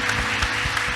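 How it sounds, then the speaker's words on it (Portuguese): A church congregation claps during a Sunday worship service, a brief burst of steady, fairly close applause with a muffled low rumble underneath. "Aplaude o Senhor Jesus"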